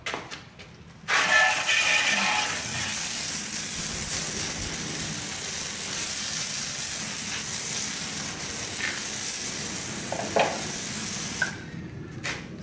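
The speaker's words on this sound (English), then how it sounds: "I'm going to quickly spray this thing off." Continuous hissing spray of water hitting an old porch light fixture caked with ten years of build-up, loud and close, with a few brief knocks and clatters near the end.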